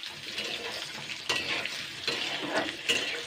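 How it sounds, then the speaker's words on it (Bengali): Potato slices lightly frying in refined oil for a drumstick curry, a close steady sizzle broken by a few distinct spatula stirs and pan scrapes, without talk. "আলুটাকে আগে জাস্ট 2 মিনিট আগে একটু হালকা ফ্রাই করে নেবো।"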